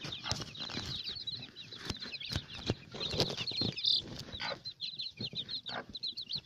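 A hen in a farmyard setting clucks and chatters in rapid, repeated bursts, fairly close, with rustling, wing flaps and soft pattering around it.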